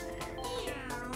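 Cat Mario's meow in the Mario Kart Tour video game: a short, clear synthesized cat meow rising and falling over game music, loud and close, heard alone without talk.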